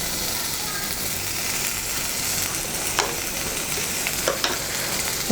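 Browned onions frying in a pan with a pinch of turmeric added, a steady close sizzle with a few sharp stirring clinks and scrapes near the end, no talk.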